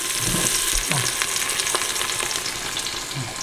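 Onions sizzling steadily in hot oil for a turkey biryani, with a continuous crackling hiss and occasional stirring scrapes, close and fairly loud, with no talking.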